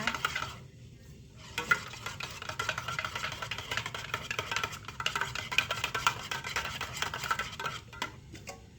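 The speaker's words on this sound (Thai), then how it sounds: "แล้วเราก็ชงนะคะ ชงให้ครีมเทียม น้ำตาล ของกาแฟละลายก่อนนะคะ" A spoon stirs hot coffee with creamer and sugar in a glass, clinking and scraping steadily in a continuous, close rhythm with a brief pause near the start.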